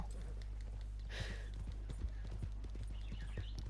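Horse hooves clip-clop in a steady rhythm in the Red Dead Online video game, a clear repeated patter of hoofbeats over a constant low background hum.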